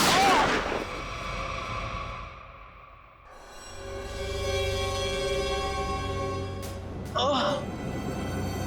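A gunshot fired during a tense scene in a TV crime drama, one sharp crack near the start, then a dramatic sustained musical drone, with a second burst later in the scene.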